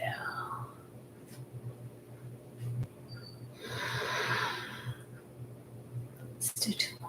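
A long breathy exhale during a qigong exercise, soft and airy, rising to a fuller rush midway, with faint background hum and a few small clicks.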